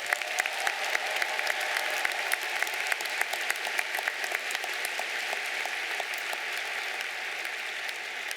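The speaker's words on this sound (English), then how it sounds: "Can you please give these graduates another round of applause?" Commencement audience applauding graduates, a steady, even wash of many hands clapping from a large crowd in a hall, sustained without break and with no talking.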